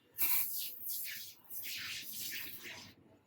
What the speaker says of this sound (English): I'm going to use this tire cleaner which I bought off my local market, and I'm going to spray this all over the engraving part